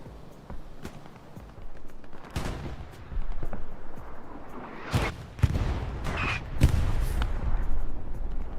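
Gunfire and artillery in the video game Hell Let Loose on the Omaha Beach map, with scattered shots and several heavy booming blasts over a constant rumbling battlefield background.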